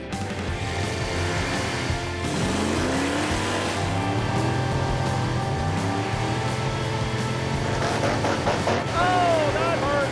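A 1995 Chevy Caprice 9C1 accelerates hard in low gear, its engine note rising steadily and climbing in pitch with a strained, roaring drone, then revving higher toward the end, heard up close beneath a talking voice.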